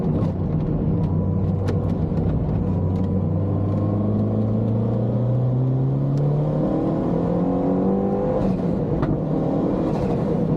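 A MINI Cooper S engine with a loud, raspy aftermarket HKS exhaust rumbles and revs at a track day, pitch climbing and falling in sweeps, close and continuous without talk.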